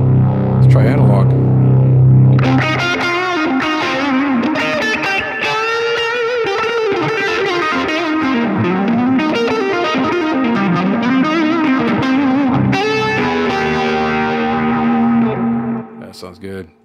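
Electric guitar runs through an analog delay on a Line 6 POD Express, playing a steady, distorted melodic line with echoing repeats, loud and continuous for about sixteen seconds before cutting off.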